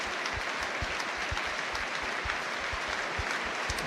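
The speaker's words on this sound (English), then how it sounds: "Tynecastle rises as one in applause in memory of the young man" A large football stadium crowd at Tynecastle applauds continuously in memorial tribute, a dense wash of clapping that holds steady throughout.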